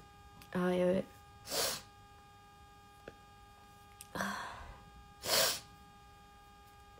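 Several short, harsh coughs, close and spaced apart, with quiet pauses and a faint steady hum in between.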